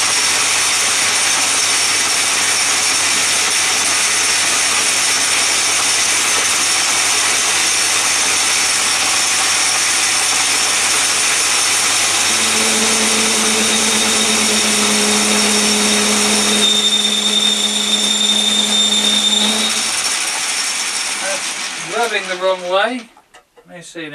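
A lathe machines a flange washer for a SIP 6 inch bench grinder, giving a steady loud motor whine with a high cutting squeal, continuous for about twenty seconds before stopping.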